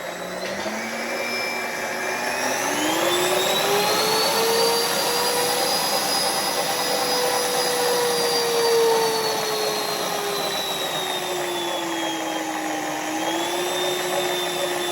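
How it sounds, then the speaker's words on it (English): A stand mixer stirs pizza dough with yeast, its motor giving a loud, continuous whine that slowly rises and falls in pitch, close by, with no talking over it. "Turn the mixer on and stir up that a little bit."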